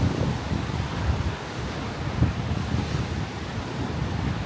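Ocean surf breaking steadily at Sea Spray in Marblehead, Massachusetts, with gusty wind buffeting the microphone throughout; a continuous loud wash of waves and wind with no voices.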